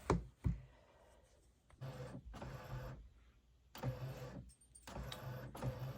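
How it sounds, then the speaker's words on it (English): An HP NV 4501 inkjet printer feeds fabric transfer paper, with a couple of sharp clunks at the start followed by alternating bursts of whirring carriage motion and quieter pauses, close and moderately loud. "Okay, it's printing."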